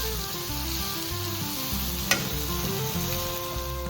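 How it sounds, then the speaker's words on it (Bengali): Eggplant fries in a pan with a loud, continuous sizzle, low rhythmic scraping of stirring underneath and a single sharp clink midway; no talking. "আর তারপরে দিয়ে দিল হলো বেগুন ভাজতে"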